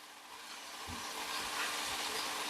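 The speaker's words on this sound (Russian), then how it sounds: "пока грибочки у нас обжариваются с луком" Mushrooms, onion and carrot fry in a pan with a steady, close sizzling hiss that swells slightly as it goes on.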